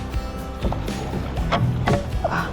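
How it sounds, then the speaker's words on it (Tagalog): Irregular splashes and gurgles of paddles dipping into water, with creaks and knocks from a small unpowered fishing boat nearby in the Philippines. "mananagwan tayo papunta sa spot"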